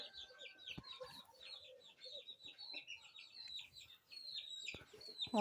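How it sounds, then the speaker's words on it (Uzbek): Hens clucking and chattering in quick overlapping bursts as they go into their coop and settle in, with a few knocks and rustles, fairly close but soft. "Mana tovuqlar ham katakka kiryapti."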